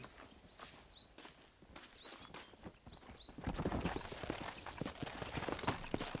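Steady hoof clops from a horse walking in the video game Red Dead Redemption, rhythmic and close, growing louder and busier partway through, with faint bird chirps in the background.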